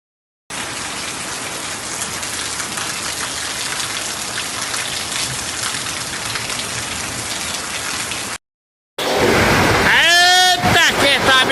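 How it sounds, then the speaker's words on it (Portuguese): Heavy rain in southern Brazil pours steadily in a loud, dense, continuous roar for several seconds, then cuts out briefly before a person speaks over renewed rainfall. "é chuva e chuva e chuva, meu pai do céu."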